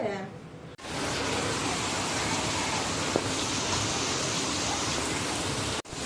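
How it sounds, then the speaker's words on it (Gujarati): Heavy monsoon rain pouring in Surat during street flooding, a loud, dense, steady hiss that starts abruptly and holds without a break. "દેખાય છે એટલો વરસાદ પડે, હવે બંધ રહેવાનું નામ નથી લેતો વરસાદ"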